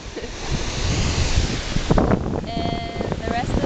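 Ocean surf and gusty wind at McKenna Beach, a steady broad wash of breaking waves with rumbling microphone buffeting, while voices talk faintly and intermittently over it.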